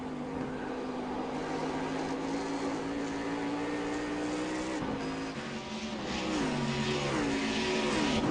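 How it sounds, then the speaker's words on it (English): Cadillac CTS-V race cars in a racing video game, several clusters of cars battling around the track, engines droning loud and steady, with upshifts and revving swells as the pack passes through. "There's 2 or 3 little clusters of cars, good battles going on around the track."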